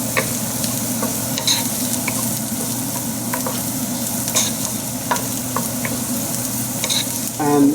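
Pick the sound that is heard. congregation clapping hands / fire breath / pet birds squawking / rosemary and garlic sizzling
rosemary and garlic sizzling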